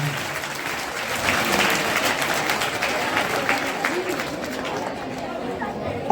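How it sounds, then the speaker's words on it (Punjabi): A school gathering welcoming an arriving guest with loud, sustained applause from a crowd, dense continuous clapping with some chatter mixed in, swelling after the first second and holding steady. "ਇੱਕ ਜ਼ੋਰਦਾਰ ਤਾੜੀਆਂ ਦੇ ਨਾਲ ਆਪ ਜੀ ਦਾ ਨਿੱਘਾ ਸਵਾਗਤ ਕਰਦੇ ਹਾਂ"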